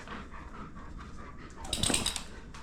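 A dog pants steadily in a home kitchen, breathing close and audible, with a brief higher whimper rising near the end.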